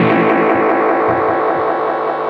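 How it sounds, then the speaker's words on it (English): Blackstar Amped 2 guitar pedal running its analog delay: a continuous distorted guitar tone with repeating echoes that trail and smear each note, loud and steady throughout with no talking. "I really think the analog delay sound on this pedal is outstanding."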